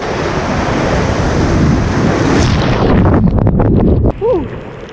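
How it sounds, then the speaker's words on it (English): Ocean surf rolls and crashes continuously at Varkala Beach, loud and close, with heavy wind buffeting the microphone throughout and a brief faint voice near the end. "And here are the waves, guys."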